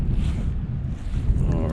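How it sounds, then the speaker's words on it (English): Gusty wind on a large lake buffets a microphone from a kayak, a steady loud roar with surges and water noise underneath and no clear speech. "It's pretty gusty."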